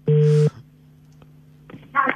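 A telephone busy signal sounds after a call drops, one loud steady tone burst followed by a faint hum, then another tone starting at the end.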